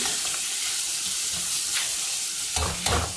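Onion sizzles and crackles steadily in a little oil in a pan, close and continuous, with a couple of brief stirring scrapes near the end.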